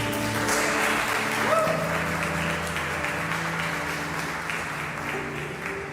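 A church congregation claps through a sermon, a steady, moderately loud patter sustained for several seconds alongside held musical tones.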